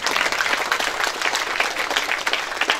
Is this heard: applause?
yes